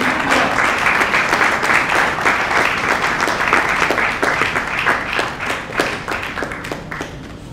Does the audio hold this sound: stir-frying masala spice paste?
no